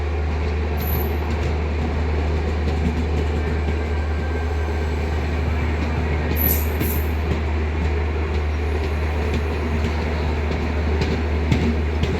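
Poorva Express, hauled by a WAP7 electric locomotive, rolls past with a steady rumble of coaches and wheels, a low constant drone underneath and brief high squeals of wheels on rail.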